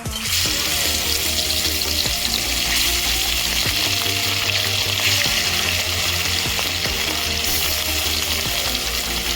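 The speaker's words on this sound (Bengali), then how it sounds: "আমার মাছটা ভাজানো হয়ে গেছে" Catla fish pieces frying in hot oil, a loud, dense, continuous crackling sizzle that stays close and steady throughout, with no talking.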